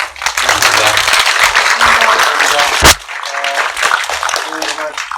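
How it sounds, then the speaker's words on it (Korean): An audience claps after a film talk with a director and actors, dense, fairly close applause with one sharp loud crack partway through and murmuring voices mixed in. "박수 부탁드립니다"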